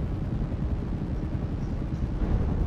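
A helicopter-style rotor on a vehicle in GTA V Online near a hangar gives a steady low droning whir, continuous and fairly quiet, with no talk.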